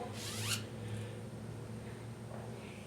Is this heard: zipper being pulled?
yes